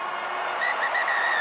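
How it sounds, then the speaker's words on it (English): A referee's whistle blown during an All Blacks v Italy rugby match in 2021, a shrill sustained blast over crowd noise, with a second trill following closely. "the referee blows the whistle"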